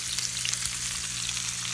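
Lime juice sizzling in a hot frying pan with wahoo fish balls, a steady bright hiss of frying with soft crackles, close and alone without talk.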